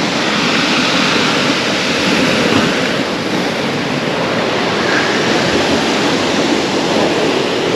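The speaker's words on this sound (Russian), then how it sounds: "даже маленькие волны, когда бьются о бетон эти," Small sea waves break against a concrete shoreline at Armyansky beach in Lazarevskoye, Sochi, in April: a loud, continuous wash of surf and spray, close by and unbroken, with some wind rumble.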